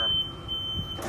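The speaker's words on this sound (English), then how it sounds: "there's an audible and visible alarm" A wheelchair lift on a Ford Transit van sounds its warning alarm, a steady high electronic tone heard close under low vehicle rumble, with a brief break near the end.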